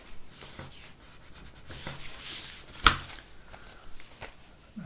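Paper being folded into an origami heart: soft rustling and creasing close up, with light rubbing and a sharp crisp crinkle midway as a fold is pressed through.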